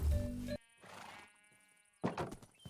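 A horse in Minecraft gives a short whinny followed by softer snorting tones, with a couple of sharp game sound bursts at the start and end, fairly close and clear with no talk.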